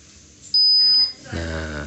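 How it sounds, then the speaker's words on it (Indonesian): Short electronic beep alert from a MikroTik router's Netwatch monitor when the network connection comes back up: one steady high tone lasting about half a second, loud and clear, followed by a low hum. "ketika mati dia akan bunyi selama 5 detik kalau nyala dia bunyi juga cuma bentar pip gitu"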